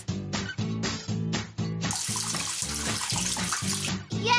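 Watering can pouring onto a planting box in a children's vegetable planting video game, a cartoon trickle of water that breaks into a run of short bursts before a longer bright splashing pour.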